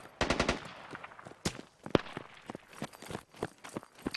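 Rapid bursts of gunfire in the military shooter game Squad, a fast automatic volley at the start followed by scattered single shots and cracks at varying distances, loud and alone.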